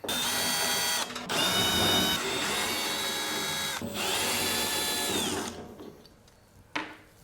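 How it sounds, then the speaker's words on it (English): A power driver whines in sustained bursts as 5/16 screws are backed out of a panel on a Mr Heater Big Maxx heater, close and loud with brief pauses between screws and a faint clack at the end. "To get this panel off, there are 4 5/16 screws."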